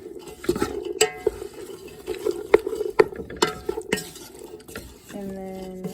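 Cowboy beans with chili powder stirred in a pot: close clinks and scrapes of a spoon against metal, a low bubbling tone underneath, and a ringing clang near the end, no talking.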